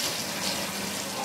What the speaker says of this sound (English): Simon, can you just check the cold water pressure in the bathtub, please?